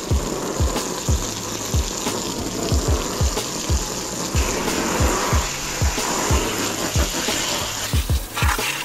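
A strong water spray blasts mud off a camping tent, a continuous hissing rush with rhythmic pulsing thumps from the pump or nozzle every half second, loud and close, ending with a brief change in tone.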